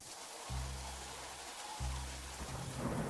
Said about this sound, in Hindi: मैं बारिश से बचने के लिए अंदर जा रहा हूँ।